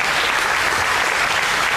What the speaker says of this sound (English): Let's give Seth a round of applause.